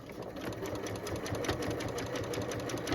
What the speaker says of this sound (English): Here I am back at the sewing machine, and I'm going to sew exactly the same way, straight stitch close to the edge.